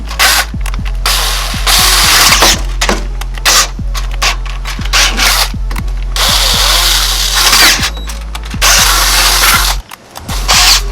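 Loud power drill whirring in repeated bursts, revving up and stopping several times, close by with a grinding edge as it bites in while installing a transmission crossmember on a 1974-87 Chevrolet C10.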